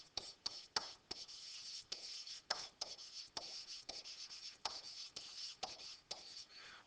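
A pen scratches across paper in short, close strokes, writing out a math answer by hand with irregular rhythmic bursts and tiny pauses, quiet and alone.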